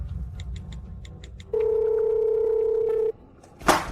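A telephone dial tone sounds as a call is placed: a steady, clear electronic tone holds for about a second and a half, then cuts off, with faint beeps before it and a brief rustle after.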